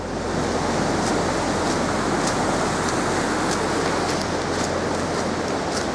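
Running water of a mountain stream in the Redes Natural Park, Asturias, a close, continuous rushing hiss with faint splashy flickers, steady and loud, with no talking over it.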